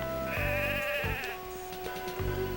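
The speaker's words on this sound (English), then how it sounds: "Uh-oh, the sheep are restless." Sheep bleat several times in quick succession in the video game Mother 3, wavering nasal calls layered over a steady synthetic background tone.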